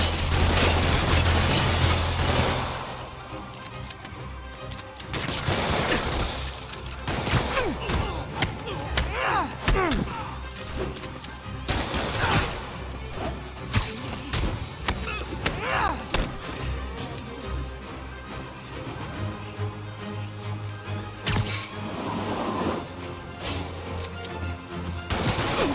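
Gunfire and fighting in the Marvel's Spider-Man Remastered video game, loud thuds, slams, crashes and scattered shots in a chaotic brawl with occasional shouted voices.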